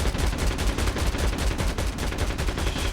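Rapid automatic gunfire from the zombies mode of the Call of Duty Mobile video game rattles on in dense, loud, continuous bursts with no pauses.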